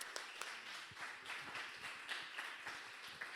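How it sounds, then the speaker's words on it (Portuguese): A church congregation claps together in a quiet, rhythmic burst, faint and somewhat distant, the individual hand claps audible as a soft patter. "Vamos aplaudir ao Senhor pela vida dela"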